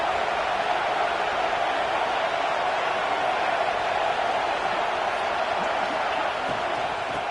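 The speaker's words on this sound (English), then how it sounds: "This crowd bringing the energy and noise early." A football stadium crowd roars in a steady, dense wash of noise that holds at even loudness for the whole stretch, with no distinct cheers or breaks standing out.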